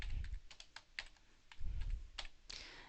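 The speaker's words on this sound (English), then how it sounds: "I'll just start typing." Keys on a computer keyboard are tapped in quick, irregular bursts of distinct clicks, with a heavier press near the end, quiet and close with no talking.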